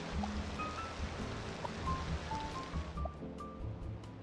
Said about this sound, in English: it never stops raining in Circle City